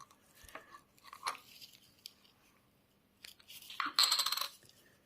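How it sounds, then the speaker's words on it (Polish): Austrian Franz Joseph gulden coin, an 1884 florin, handled at close range: soft scattered taps and scrapes, then a louder burst of bright metallic clinking near the end, with no talking. "Jeszcze jedna monetka."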